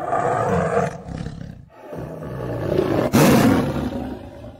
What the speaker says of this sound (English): You heard the roar of beautiful creature.